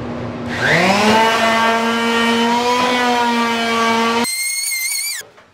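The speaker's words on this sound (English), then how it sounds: "I'll have the air handling filter on as well as the sander." A power sander on wood scraps spins up into a loud, steady whining drone with an air filtration unit running alongside; it holds for several seconds, then cuts off with a brief higher whine.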